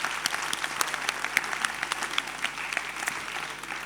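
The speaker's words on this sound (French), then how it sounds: "ça fait au moins 10 minutes qu'on n'a pas applaudi Mathilde" An audience at a French science-outreach conference applauds Mathilde with sustained, evenly dense clapping that holds steady throughout, with nobody talking over it.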